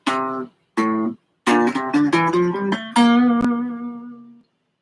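Guitar notes run up a Lydian scale: two separate plucked notes first, then a quick ascending run that ends on one held, ringing note fading out. The playing is clear and close, with no talk.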